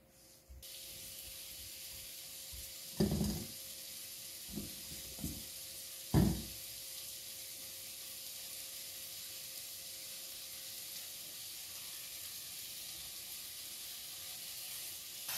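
Sausage meat patties sizzle in oil in a pan, a faint steady hiss with a few sharper louder crackles and spits early on, then settling into quiet constant frying.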